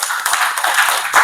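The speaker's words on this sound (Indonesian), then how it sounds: "Tepuk tangan dulu untuk kelompoknya." Students in a classroom clapping for a group after its presentation, a brisk, fairly close patter of hands lasting only a moment with no talk over it.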